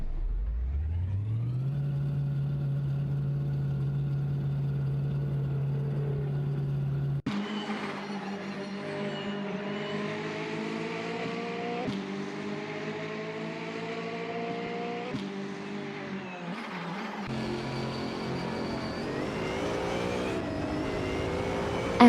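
Racing car engines in an AI racing video game drone and rev, starting with a single steady tone before several cars whine together at varying pitches, loud and continuous with shifting engine notes.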